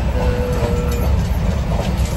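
A train running on an overnight journey, heard from inside the carriage as a loud, steady rumble with constant rattling and a faint high whine throughout. No one speaks.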